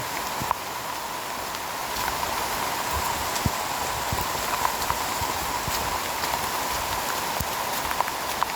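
Steady, continuous rainfall on a mountain hiking trail near the summit of Puncak Mangu, a dense hiss of drops with scattered closer taps and patters throughout, no talking.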